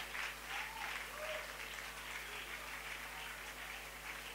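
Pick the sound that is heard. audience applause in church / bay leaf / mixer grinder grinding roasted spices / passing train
audience applause in church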